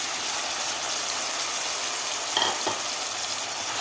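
Chicken rubbed with salt and turmeric sizzles in a pot of fried onion and ginger-garlic paste for an Indian-style soup. It makes a steady, dense, close crackling hiss with a couple of faint stirring knocks and no talk.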